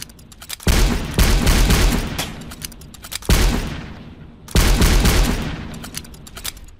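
Gunfire in a cheap Steam shooter video game, loud rapid bursts in several separate volleys, each decaying briefly before the next, with no talking.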